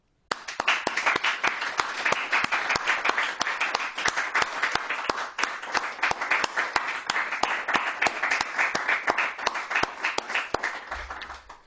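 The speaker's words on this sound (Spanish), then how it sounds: "Un aplauso para todos estos." Audience applause at a religious gathering, a long, even burst of many hands clapping that starts sharply and holds at a strong level throughout.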